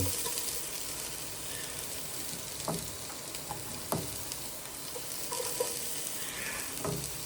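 Onion dropped into a hot pan for chicken tinola gives a steady, even sizzle throughout, with a few soft clinks and stirring knocks over the hissing.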